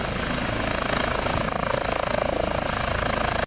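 A medical ambulance helicopter roars steadily and loudly throughout, its rotor chop pulsing in a fast, even rhythm before cutting off abruptly at the end.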